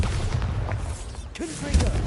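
A Bombarda blasting spell explodes in Hogwarts Legacy, a short booming thud with a rumbling low burst near the end, heard close over dense game ambience.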